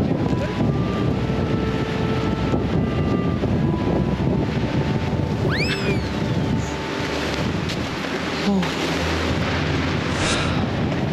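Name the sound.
wind blowing in a winter forest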